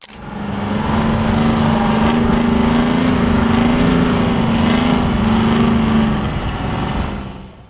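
A steady, heavy Detroit Diesel engine drone runs continuously with a low hum, swelling in at the start and easing off near the end, with no voices.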